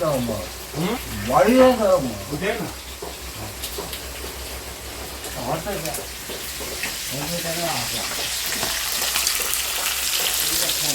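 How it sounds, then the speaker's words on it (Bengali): Fish frying in a pan in a home kitchen, a steady hiss of sizzling oil that rises toward the end, with someone talking over it early on. "আর এখানটায় মাছ ভাজছি"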